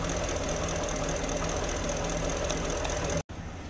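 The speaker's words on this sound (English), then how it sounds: "So here it's idling now." A 2011 Ford F350 with the 6.2 engine idles with a steady mechanical drone and slight stumbling, heard close up and alone until a brief dropout near the end.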